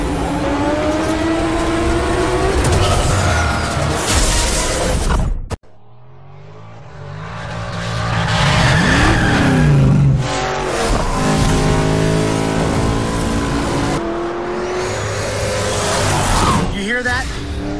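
All-American muscle car in the racing game Shift 2 Unleashed, its engine revving loud and close in repeated surges with a brief cut near the middle, while a voice talks over it.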